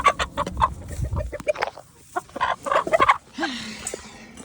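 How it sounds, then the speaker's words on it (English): Chickens cluck in short, irregular bursts close by, with scratchy rustling between the calls and a brief squawk near the end. "chickens pottering along their little waddles"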